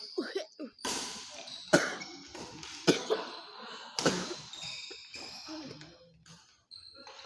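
Someone coughs several times in sharp, separate bursts during an indoor badminton doubles match, with court noise and speech from a commentator running through the clip.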